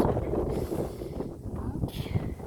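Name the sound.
wind blowing outdoors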